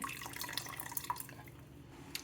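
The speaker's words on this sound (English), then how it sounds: "But I'm gonna put back the mushroom liquid." Mushroom liquid trickles and splashes back into a pot of kombu broth for wild mushroom soup, a steady close pour lasting a couple of seconds.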